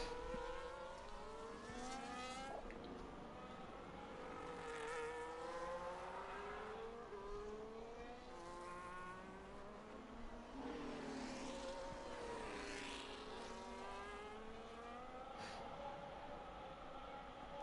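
F1 25 race car on a flying lap at the Brazil round of a video game league, its engine note rising and falling steadily through gear changes and corners, loud and continuous, with faint commentary underneath.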